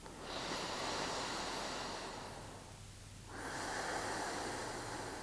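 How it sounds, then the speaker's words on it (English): Slow, deep breathing during a guided relaxation exercise: a long, close, breathy inhale, a short pause, then an equally long airy exhale, with no one talking. "Take another inhale and exhale here."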